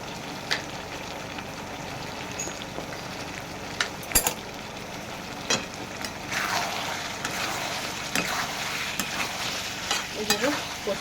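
Chicken stirred in a pan with salt and turmeric, sizzling steadily with scattered scraping clicks and spoon knocks across the whole stretch, fairly close and moderately loud, no voices.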